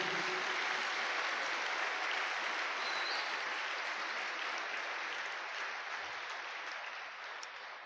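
A church congregation applauds the Lord, a dense sustained wash of clapping that holds steady for several seconds, then slowly eases off.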